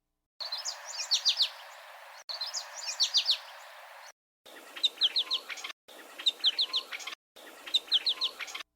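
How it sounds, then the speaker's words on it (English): American goldfinch call recording: repeated bursts of bright, rapid twittering chirps in short clustered phrases, moderately loud and clean, separated by brief silent gaps. "First, here's the American goldfinch."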